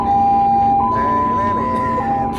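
An Indonesian ambulance siren sounds loud and close, a steady electronic tone shifting pitch partway through, with a voice speaking alongside.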